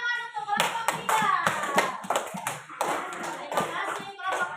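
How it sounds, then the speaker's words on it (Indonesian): A classroom of students claps for a student group. A burst of sharp, rapid hand claps runs for several seconds and fades toward the end. "tepuk tangan untuk kelompok 3"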